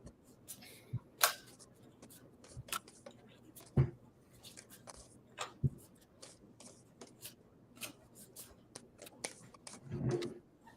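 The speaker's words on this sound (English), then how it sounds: "These are not the easiest cards to shuffle." Oracle cards from a Lover's Oracle deck being shuffled by hand, giving a run of crisp, close riffling flicks and soft slaps spread irregularly across the stretch, with louder snaps now and then against a quiet room.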